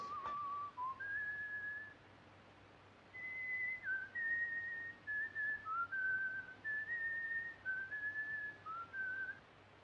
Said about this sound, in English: That tune you are whistling, sir, it is an English tune, isn't it?